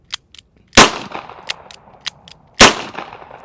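Taurus Tracker 692 revolver fires two sharp, loud gunshots about two seconds apart, each with a short echoing tail, with small clicks and handling noises around them at an outdoor range.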